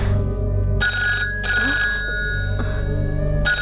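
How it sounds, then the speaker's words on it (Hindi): A mobile phone rings loudly in a home, its ringtone repeating in several bursts over a steady low hum with short pauses between. "ए जी, भाई साहब का फोन आया है।"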